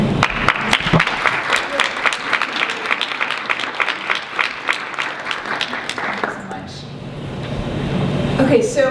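Audience applause for a maternal mortality review panel at a Washington State meeting: a steady run of distinct claps for about six seconds, then fading into room noise and a voice at the end.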